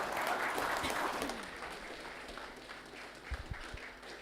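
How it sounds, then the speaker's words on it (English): Audience applause at the launch event for the Vodafone M-PAiSA Mastercard, a dense burst of clapping that fades after about a second and a half into scattered claps and low room murmur. "Please, another big round of applause, ladies and gentlemen"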